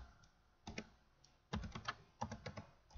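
Keys pressed on a computer keyboard with only a left Windows key, a short single tap followed by two quick clustered bursts of clicks, close and clear with no voices.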